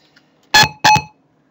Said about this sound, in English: It even beeps when you screw up like that, like I just did.